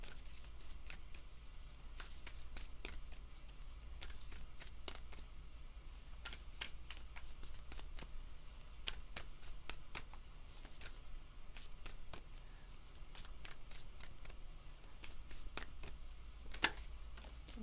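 A deck of Starseed Oracle cards is shuffled close up, producing a steady stream of soft, rapid riffling flicks over a faint background hum, with no voice.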